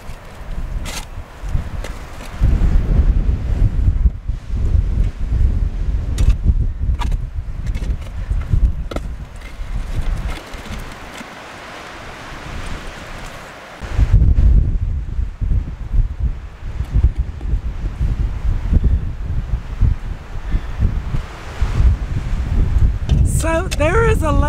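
Strong wind gusts on a homestead roar and buffet the microphone in heavy, rumbling waves, easing into a brief lull midway before surging loud again.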